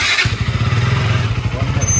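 A KTM motorcycle engine runs close by with a steady low throbbing idle, its pulsing beat continuing after a brief noisy start and holding through the rest of the stretch.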